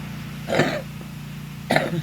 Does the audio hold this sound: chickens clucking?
no